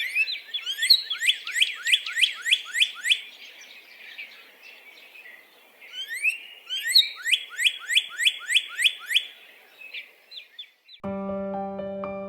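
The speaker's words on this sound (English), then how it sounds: "Here's the sound of the cardinal's call." Northern cardinal calls in two runs of rapid, sharp, bright whistled notes, clear against a quiet background, and a brief tonal musical sound enters right at the end.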